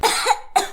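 Two quick harsh coughs from one person, close and loud, with a short gap between them.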